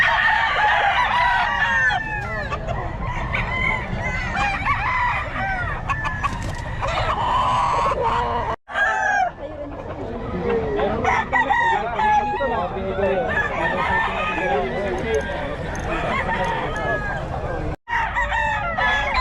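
Roosters crow repeatedly and hens cluck loudly and close at a crowded poultry market in Bocaue, with overlapping calls from several birds and some voices in the background.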